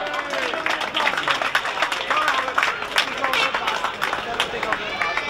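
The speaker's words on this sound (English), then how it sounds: "Give a big round of applause again" A crowd claps and cheers at the 2014 St Patrick's Day parade in Macroom, the applause dense and sustained throughout with voices mixed in.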